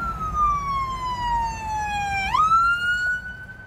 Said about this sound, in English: There's the police car and we are stuck.